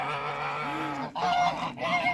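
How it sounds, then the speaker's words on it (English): Geese honk repeatedly at close range, loud nasal calls overlapping in a flock, with short breaks between bursts. "I still see the geese every day at the moment when I come here"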